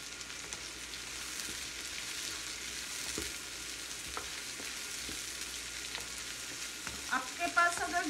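Carrots are sautéed in a pan for veg chow mein, giving a continuous soft sizzle with faint stirring and a few light clinks of the utensil near the end.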